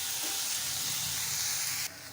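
Carrots and other vegetables sauté in a pan for a carrot chutney, giving a steady, close hiss and sizzle that drops slightly in level near the end.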